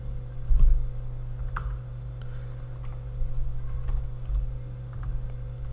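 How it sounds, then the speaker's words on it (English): A command being typed on a computer keyboard into the MongoDB shell, giving scattered soft key clicks in short bursts over a steady electrical hum, close and fairly quiet. "so just type this command"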